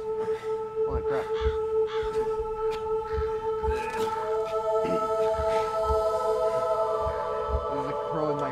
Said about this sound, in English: There's a crow in my face.